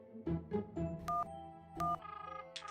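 A landline phone being dialed in a cartoon household: a run of short electronic keypad tones, some beeps held longer, followed by a faint pulsing ring, close and clear with no talking.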